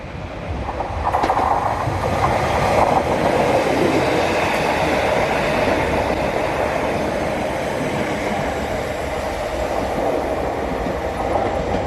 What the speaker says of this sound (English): here comes the train coming in from Lowestoft